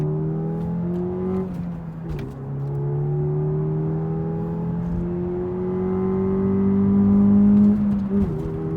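Peugeot RCZ 200 HP accelerating at full throttle on the road, engine note climbing steadily through the gears with brief dips at shifts, loud and sustained from inside the car, no talking.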